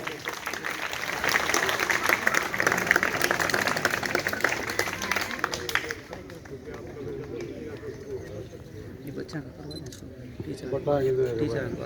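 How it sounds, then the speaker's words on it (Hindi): Sustained applause from a crowd at a school staff welcome ceremony, loud and dense for about six seconds, then thinning into scattered claps and background noise before rising again near the end. "एक बार जोरदार तालियां।"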